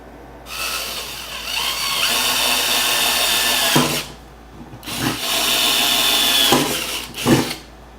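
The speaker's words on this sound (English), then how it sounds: "we'll go ahead and mark where we want to drill our holes here" A power drill bores holes through the mounting plates of a motorcycle top box and quick release kit, two long loud whining runs broken by short pauses and a final brief burst, with no talk.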